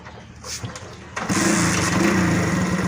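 A motorcycle engine, just tuned, cranks briefly and then catches, settling into a steady, loud, buzzing idle up close after about a second of starting noise.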